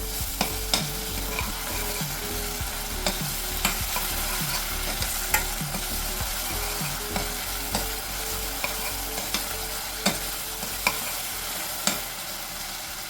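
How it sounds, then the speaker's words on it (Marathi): Onions sauté in a pan with ginger, garlic, coriander and chilli paste, a steady sizzle broken by regular scraping stirs of a spoon roughly once a second, close and alone. "ही देखील आपण आता या कांद्यासोबत परतून घेऊया"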